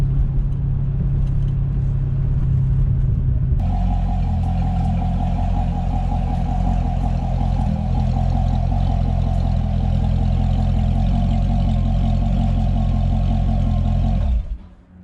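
A stock Chevrolet Corvette C6 Grand Sport driving at Buttonwillow Raceway, its engine a loud steady drone that rises into a stronger sustained pull before cutting off abruptly at the end.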